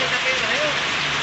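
Heavy rain pours outside shops in Bihar, a dense, steady hiss across a short stretch with no break.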